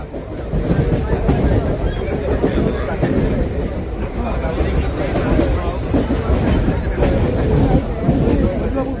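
Steady rumbling rattle of a crowded passenger train carriage with a dense crowd murmuring throughout, loud and close.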